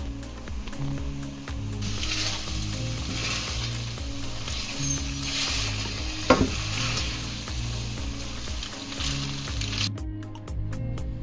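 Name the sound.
spaghetti being stirred into tomato sauce in a pan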